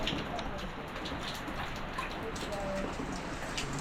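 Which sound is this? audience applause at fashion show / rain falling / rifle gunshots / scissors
rain falling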